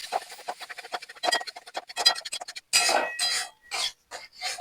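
Masala and sour curd for doi katla being stirred and fried in a pan, with a run of close scraping, clinking spatula strokes and a sizzle that rises into louder bursts of frying toward the end, and no talk.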